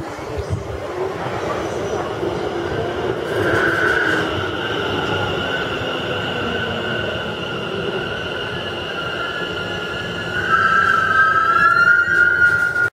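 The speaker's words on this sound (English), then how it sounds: "The train now approaching platform 1 is the 1637 London Overground service to Euston" A London Overground service to Euston pulling into platform 1 at South Kenton on the WCML, a steady rumble with rising squealing brakes toward the end, while a station announcement and voices carry over it.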